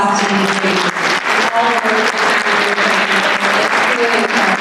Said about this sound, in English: Let's give a round of applause to these ladies.